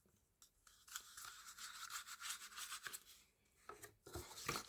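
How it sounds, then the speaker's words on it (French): Paintbrush being cleaned in a cup of water, quiet close scrubbing and swishing strokes in irregular bursts with short pauses between. "Maintenant, du coup, je vais nettoyer mon pinceau."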